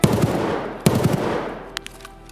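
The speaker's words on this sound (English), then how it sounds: "on the way there, I hear gunshots nearby" Gunfire erupts nearby in the Escape from Tarkov shooter: two sharp bursts of rapid shots, each a quick cluster of loud cracks, followed by a few fainter isolated pops as the fire tapers off.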